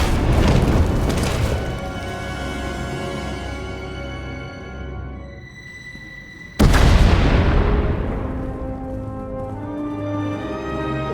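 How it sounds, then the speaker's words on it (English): Two big booming explosions in Star Wars: The Old Republic as a tunnel collapses, the first rumbling and fading out slowly, the second hitting suddenly and loudly before a long decaying roar. "We heard explosions, the tunnel collapsed."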